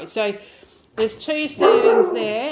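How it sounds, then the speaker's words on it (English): A pet dog barks at someone walking past an open door, a few sharp barks and yips ringing out near and loud, partly overlapping a person speaking. "Oh, sorry, that's my dog."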